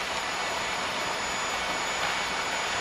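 Engines of a Cessna Citation private jet during the takeoff roll: a loud, steady jet roar and high whine heard from inside, continuous for the whole stretch with no talk.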